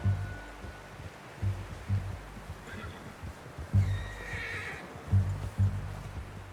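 A horse in Red Dead Redemption 2 whinnies and snorts amid slow clip-clop hoofbeats and soft rustling, fairly close with no talk.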